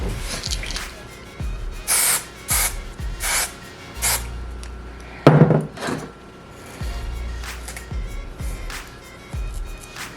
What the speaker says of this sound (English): I'm gonna put a little bit of Chi hairspray on it.